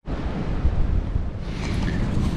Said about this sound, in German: Wie laut der Wind einfach.